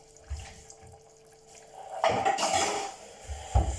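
A braised pork roast sits in liquid in a pot that is boiling as the heat is lowered toward a simmer. Soft bubbling and watery sloshing are heard up close, with a few louder clinks of the pot.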